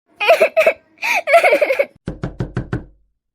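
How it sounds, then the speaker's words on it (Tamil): A run of about six firm knocks on a door, close and loud and fairly quick, coming right after a few short bursts of a voice that sounds like laughter. "அகல்யா, கதவு தர மக்களே."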